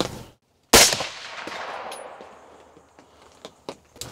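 A single rifle shot fired at a black bear during a hunt cracks sharply and loud, followed by a long fading echo and a few faint knocks afterward.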